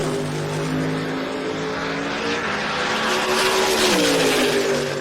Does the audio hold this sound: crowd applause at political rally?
no